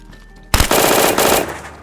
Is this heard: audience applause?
no